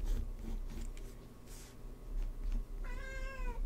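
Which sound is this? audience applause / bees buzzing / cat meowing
cat meowing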